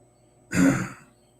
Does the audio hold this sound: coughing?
yes